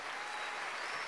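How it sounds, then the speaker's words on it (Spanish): Crowd applause at a freestyle rap battle in Buenos Aires, a brief, continuous roar of clapping from a large audience, even and unbroken with a faint high tone running through. "un fuerte aplauso de bravo a estos muchachos"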